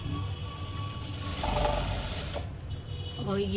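A sewing machine stitches a side fitting with a close, rapid mechanical whirr, a voice speaking faintly over it.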